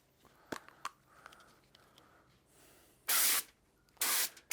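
Spray-on cooking oil hisses from a can onto a foil tray for salmon on a Charmate barbecue, two loud bursts of steady spray after a few light clicks and handling taps.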